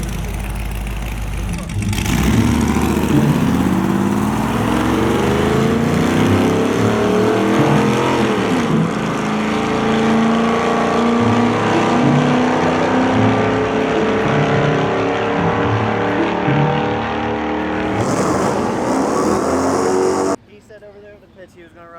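A lifted Chevrolet Tahoe makes a drag racing pass, its engine roaring loudly and steadily as it climbs through the gears over about eighteen seconds before cutting off abruptly, with voices mixed in.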